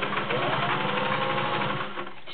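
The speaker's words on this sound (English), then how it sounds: "I'm going to start with a straight stitch." A Singer 500A Slant-O-Matic Rocketeer sewing machine runs a straight stitch, a steady close whirring hum with rapid even needle chatter that slows slightly near the end.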